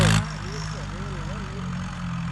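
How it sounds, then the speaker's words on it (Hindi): A tractor engine idles in a steady, close, mid-pitched chug while someone talks over it. "भाई ट्रैक्टर ठीक चल रहा ना"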